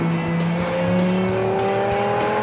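A highly customizable Ferrari sports car screams past with rising engine revs and a sustained tire squeal, loud and close, filling the whole moment without any voices.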